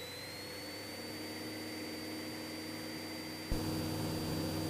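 Cessna 172SP piston engine droning steadily inside the cabin on takeoff, a constant hum that steps up abruptly near the end as power comes up, with no talk.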